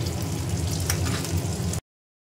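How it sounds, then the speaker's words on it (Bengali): Fish frying in a hot pan, a steady close sizzle of oil that holds loud and even for about two seconds before cutting off abruptly. "গরম গরম একটু মাছ ভেজে নিচ্ছি"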